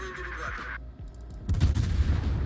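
A naval artillery salvo fires in World of Warships: tonal engine and ambient hum give way to a loud burst of heavy gunfire with rumbling booms that keep rolling to the end.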